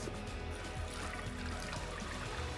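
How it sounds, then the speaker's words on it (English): Custard for a milk tart poured through a kitchen sieve, a short, steady liquid trickle and splatter at close range with no talk. "I'm gonna pour this custard through a sieve."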